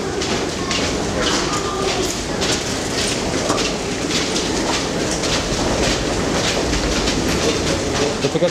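A Berlin train runs along its rails with a steady, loud rumble and rhythmic clickety-clack of wheels over joints, continuous throughout with faint background voices.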